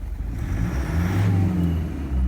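Diesel car engine idling with a faulty suction control valve, a steady low rumble close by that rises slightly mid-way, running alone without voices.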